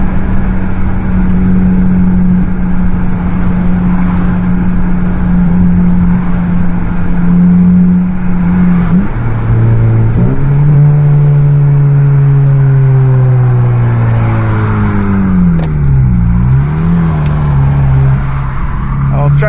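A 2013 Honda Civic Si with a Tsudo catless downpipe and muffler delete idles with a loud, steady drone, then revs up and settles again, with a second rev and drop near the end, all close to the microphone.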